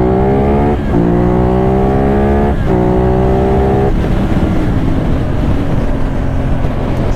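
A CFMOTO 450NK motorcycle engine accelerating up through the gears, loud and close, rising revs broken by quick shift dips, then settling into a steady rushing roar of wind and engine.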